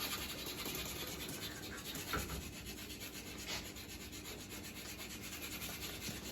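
A spring whisk rubs and scrapes continuously around the bottom of a pot of thickening crème pâtissière, a faint, steady swishing with small bursts of scraping.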